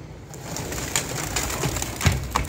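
Soft coos from pigeons feeding on grain repeat at a steady pace over an outdoor background, with a few scattered louder bird calls along the way.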